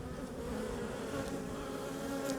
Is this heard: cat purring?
no